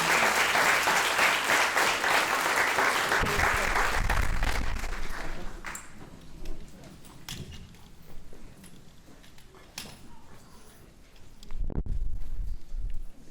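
A high school audience at a community forum claps in a dense burst that fades after about five seconds, leaving scattered claps and room noise before a brief swell near the end.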